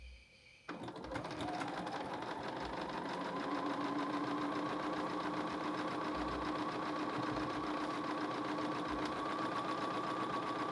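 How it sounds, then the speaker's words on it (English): A sewing machine runs a long continuous stitch along the side seam of an oversized blazer, a steady close mechanical whir after a brief quieter start, with no talking. "And then I am going to go ahead and do my side seam."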